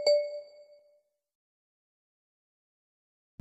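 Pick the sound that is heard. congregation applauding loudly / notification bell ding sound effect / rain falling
notification bell ding sound effect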